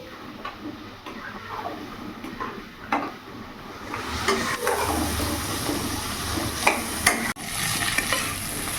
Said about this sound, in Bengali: ভালো করে মিশিয়ে একটু কষিয়ে নেব